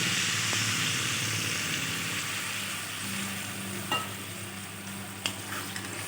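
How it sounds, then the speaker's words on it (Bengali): Vegetables and spices sauté in a pan with a continuous loud sizzle. A couple of sharp utensil clinks come near the end, and there is no talk. "সবজির সাথে মশলাটা খুব ভালোভাবে কষে গেছে"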